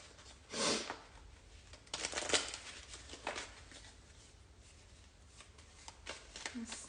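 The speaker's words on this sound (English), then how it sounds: "So this is a test deck for it, and it's called Money Magnet. So we're gonna pull a money card for today" A small Money Magnet tarot deck is shuffled in a few papery riffling bursts with quieter card handling between them, fairly close and with no talking.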